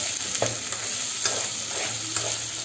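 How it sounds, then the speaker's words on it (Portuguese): Sausage and chopped onion frying in a pan, a steady close sizzle broken by a few soft scrapes as the mixture is stirred, with no voices. "Agora eu vou misturar e vou deixar essa linguiça dar uma fritadinha,"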